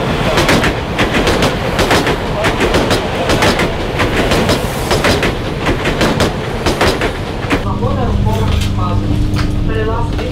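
A modern passenger train rattles and clatters loudly at a station platform in Kyiv, with sharp rhythmic clicks. Toward the end, voices come in over the rumble.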